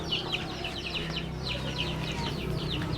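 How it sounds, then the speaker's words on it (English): Chickens cluck and small chicks peep around a Hmong village in Laos, with repeated close, bright calls over a steady outdoor background. "we got the little chicks there, chickens running around"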